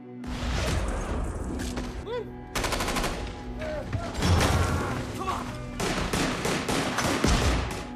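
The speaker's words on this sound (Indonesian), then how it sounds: "Di sela-sela baku tembak tersebut, John dan Karen berusaha menyusup ke arah tempat di mana sniper itu berada." Gunfire from a Russian-set action film shootout with a sniper firing on police, heard as loud bursts of repeated sharp shots with crashes and thuds over a busy soundtrack, while voices speak beneath.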